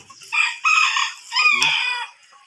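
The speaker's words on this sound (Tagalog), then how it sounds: "manok natin laging gigil kumain. Walang kabusugan." Chickens cluck and crow close by while eating feed, several loud, strained calls in quick succession over a short stretch.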